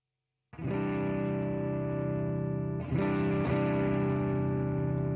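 An electric guitar played through an OKKO FX Dynamist pedal on an amp running at very low wattage rings out as two sustained, distorted chords, the second struck about two seconds after the first, heard alone.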